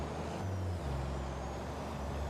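A truck with air brakes in Farming Simulator 22 idles with a low steady engine drone, and a brief pneumatic air hiss comes near the start, with no talk.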